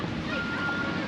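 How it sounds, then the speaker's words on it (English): Strong wind gusts across a microphone at a gas station, producing a loud, steady, close rushing roar for the whole moment, with no talking. "Man, that wind is blowing."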